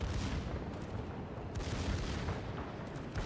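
Secondary guns of the battleship HMS Warspite firing in World of Warships, a low rumbling series of distant booms blending into a dense, muffled barrage that rolls on steadily at moderate volume.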